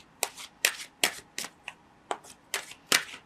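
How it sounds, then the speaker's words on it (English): Tarot cards shuffled by hand for a reading, eight crisp riffling bursts at a steady rhythm, close and clear with no voices. "Let's draw 3 more cards in regards to the choices ahead of you."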